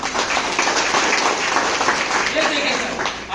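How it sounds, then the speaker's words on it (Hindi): Seminar audience clapping steadily throughout, a dense broadband patter of many hands that holds level before easing slightly at the end, with voices mixed in underneath. "इनके जोरदार ताली होना चाहिए सर।"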